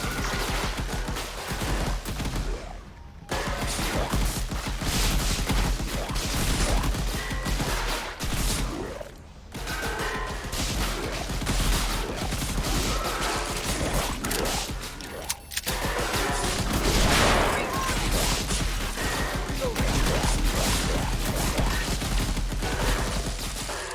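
Zombies gunned down in the survival horror game Ghostship Chronicles: sustained rapid gunfire in dense bursts, loud and continuous with a few brief pauses, no talk.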